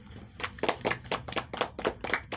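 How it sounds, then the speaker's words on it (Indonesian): Classroom applause for a primary school group. Scattered, fairly quiet claps in an uneven rhythm go on for a couple of seconds. "tepuk tangan untuk kelompok 1"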